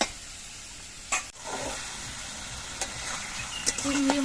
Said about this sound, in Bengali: সবগুলো চিংড়ি মাছে আমি একবারে ভেজে নিচ্ছি